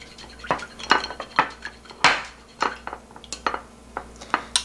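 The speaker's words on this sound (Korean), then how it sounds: "기존에 만들었던 요구르트를 이렇게 한 스푼 넣고" A metal spoon scoops homemade yogurt into a container, giving a series of close, sharp clinks and scrapes against the dish at an uneven rhythm, with no talking.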